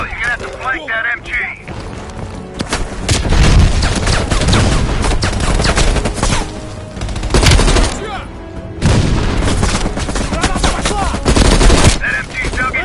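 Loud, sustained bursts of machine gun fire with booming explosions in Call of Duty Black Ops Cold War, from a dug-in MG position. Dense rapid shots in long stretches with brief lulls, and voices shouting over the gunfire.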